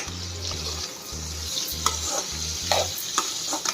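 Spices with turmeric fry in a pan for an okra and egg curry, a continuous close sizzle broken by scraping stir strokes, with a low electrical hum that pulses on and off beneath.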